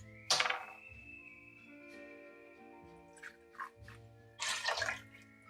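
Gold Puerto Rican rum poured for a Zombie tiki cocktail, a short close liquid splash and trickle with a few bottle and glass knocks, quiet and with no talking.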